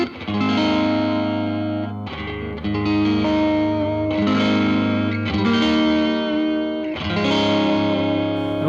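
Electric guitar played through a Fender amp with '63 spring reverb, sustained distorted chords struck about every one to two seconds, each ringing out with a washy reverb tail, loud and close with no talking.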